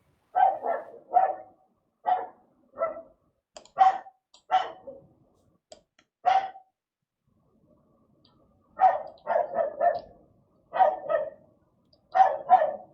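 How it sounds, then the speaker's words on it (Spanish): A small pet dog barks indoors in quick clusters of sharp, close yaps, pausing briefly between bursts and then starting again, with nothing else heard around it. "Está mi perrito aquí ladrando un poco, entonces puede estorbar un poquito el audio."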